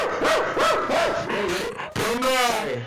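A person imitates a dog with a run of rhythmic, close, loud voiced barks and yelps, several in quick succession, ending in a higher drawn-out whine.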